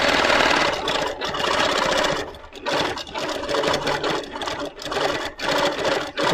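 A Moxie sewing machine stitches free motion quilting with a steady, fast mechanical whirr. Brief pauses and restarts break the run as the machine works close and moderately loud, with no talk.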